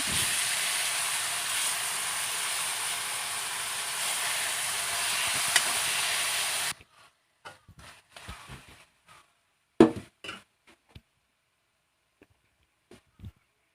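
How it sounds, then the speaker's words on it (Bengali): Chicken curry spices with ginger-garlic paste fry and are stirred in a pan, giving a loud, continuous sizzle for about seven seconds before it cuts off, followed by scattered soft clinks and handling noises. "দিয়ে আস্তে আস্তে নাড়তে থাকবো।"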